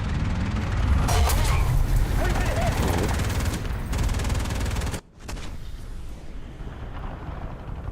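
Gunfire and explosions rumble through a ground tank battle video game, a dense, continuous barrage with sharp bursts, then a brief cut near the end before the distant combat noise resumes.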